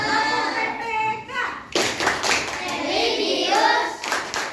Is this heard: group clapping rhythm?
yes